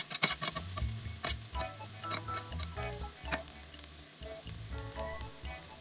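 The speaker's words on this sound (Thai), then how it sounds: "เราก็จะผัดหอมไปเรื่อยๆนะคะ" Shallots sautéing in a pan, a crackling sizzle with repeated sharp clicks and taps of a spatula against the pan, close and fairly quiet, no talking.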